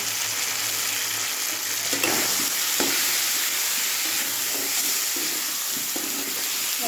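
Ground cumin and turmeric sauté in a hot pan, a steady close sizzle running throughout with a few soft scrapes and stirring knocks, no voices.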